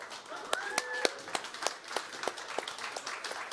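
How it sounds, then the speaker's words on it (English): A conference audience gives sparse, scattered applause: single claps at uneven intervals, moderately loud and close, with a thin whistling tone early on and no talking. "let's start off with a giant round of applause for our 2 participants"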